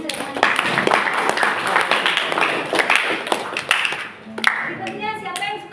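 A classroom of students applauds a group that has just presented, sustained clapping from many hands that tapers off near the end, with some voices underneath.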